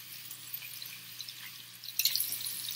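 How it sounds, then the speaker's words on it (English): Tap water runs into a sink as soapy hands are rinsed, a soft steady hiss that swells louder near the end, with no speech. "Our fifth step is we're going to rinse the soap off of our hands."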